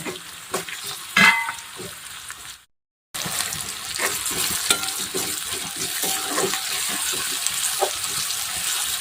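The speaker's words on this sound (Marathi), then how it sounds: "कांदा छान असा तळून घ्यायचा तेलामध्ये" Finely chopped medium onion frying in oil in a home kitchen, a steady sizzle with scraping stir strokes and clinks, briefly cut off by a short silent gap before the frying resumes.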